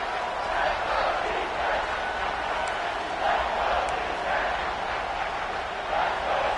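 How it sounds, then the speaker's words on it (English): A packed Auburn football stadium crowd roars on a third down, a sustained, distant wall of cheering and shouting voices that swells and dips gently throughout. "This Auburn crowd trying to conjure up a little magic here on 3rd down."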